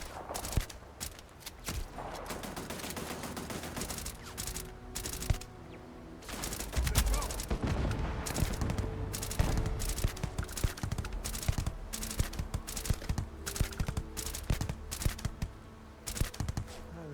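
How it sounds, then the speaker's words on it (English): Rapid bursts of gunfire from the space RPG Starfield ring out in a dense, sustained fusillade of sharp cracks, machine-gun-like rattles and impacts layered over game ambience, with only light voice in the mix. "Somebody shooting?"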